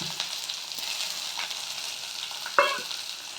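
Long-sliced onions fry in hot oil and are stirred around a pan, a steady moderate sizzle with scraping strokes and one sharp clink near the end.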